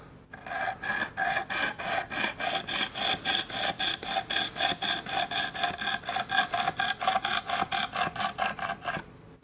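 A knife blade is drawn repeatedly across the abrasive stone of a Work Sharp Precision Adjust sharpener, making a rapid, regular series of dry rasping strokes, close and clear, with no talking.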